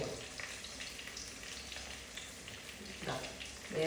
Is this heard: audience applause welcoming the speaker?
no